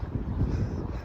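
Outdoor wind buffeting a microphone on a dusty, blustery day, a steady low rumble with no gaps and no voices.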